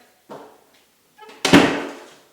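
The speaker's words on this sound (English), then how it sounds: "And now the door closes and latches." A door in a freshly repaired jamb swings shut with a soft initial contact, then a sharp, loud latching thud that rings briefly before fading, close by and without talk.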